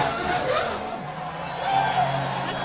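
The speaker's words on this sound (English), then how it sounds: "That noise you can hear, James, is Michael Schumacher just lighting his wheels as he comes in." Formula 1 car at the 2002 Australian Grand Prix spinning its wheels on the way into the pits, a sustained engine and tyre roar heard over crowd and commentary ambience.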